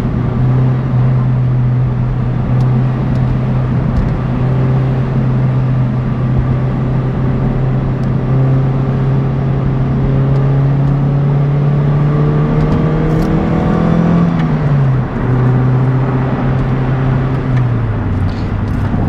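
Toyota MR2 Spyder taking an interstate on-ramp quickly, its engine droning steadily with rising harmonic tones as it accelerates, then a brief dip and climb around a gear change, with constant road and wind noise and no talking.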